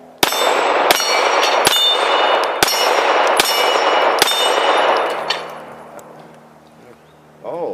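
Pistol rounds ring off a steel shooting tree, seven sharp clangs spaced about a second apart, each with a bright metallic ring that fades into a quiet tail.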